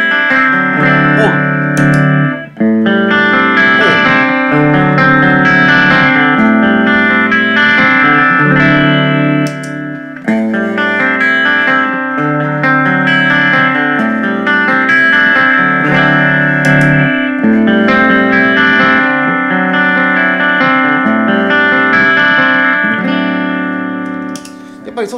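Electric guitar through a Beyond Tube Booster vacuum tube booster pedal: continuous overdriven chords and riffs, rich and sustained with a light reverb tail, played loud and close for about twenty-five seconds.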